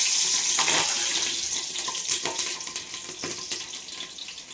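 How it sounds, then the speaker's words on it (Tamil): Green chilies fry in hot oil that already holds cinnamon, cloves and cardamom for a biryani, giving a steady close sizzling hiss dotted with sharp crackles that eases slightly over a few seconds. "பச்சை மிளகா பொரிஞ்சிருச்சு"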